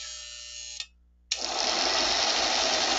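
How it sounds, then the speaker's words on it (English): Electric motor of a Lionel postwar Santa Fe F3 model locomotive, freshly oiled, whirring steadily; a short hum cuts out, then after a brief pause the motor starts again and runs on with an even, high, continuous whine. "Now, this should run and not squeak."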